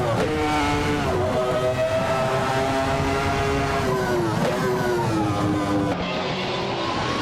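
Race cars at the start of a race, a pack of high-revving engines droning loudly together. Pitch shifts rise and fall as the cars accelerate and pass.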